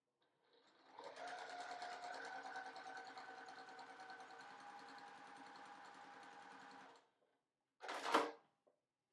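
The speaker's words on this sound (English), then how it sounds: "Now I'm going to place these right sides together, line up those creases, and sew a 1/4 inch seam." A sewing machine stitches a quarter-inch seam on baby quilt pieces, running at a steady, even hum for about six seconds before stopping, followed by a short mechanical clunk.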